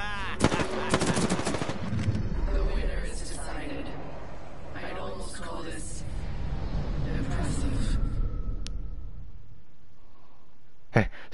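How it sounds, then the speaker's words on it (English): Rapid bursts of video game gunfire crackle over a continuous dense battle din, with people talking excitedly throughout and a sharp shot near the end. "See how his gun was aiming up and he was just shooting down."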